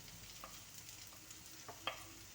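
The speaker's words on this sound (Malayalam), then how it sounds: "സവാളയും ഉരുളക്കിഴങ്ങും കൂടെ വഴറ്റാം" Potatoes and onion sautéing in a pan, a quiet continuous sizzle with a few soft stirring scrapes and a small clink near the end.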